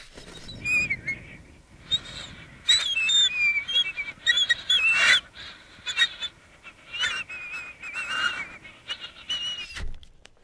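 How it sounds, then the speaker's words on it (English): Soft, high-pitched whistling edge tones from air blown across the edge of a dollar bill, heard alone: wavering squeaky tones that bend in pitch, come in short bursts and longer held notes, and are followed by a low thump near the end. "The goal is to make a soft, high-pitched whistling sound."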